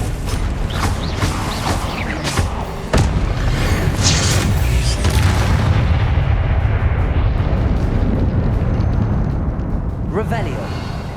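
Confringo fire spell blasts in the video game Hogwarts Legacy, booming explosions and crackling impacts within dense, loud combat sound, with a voice shouting spells over the fighting.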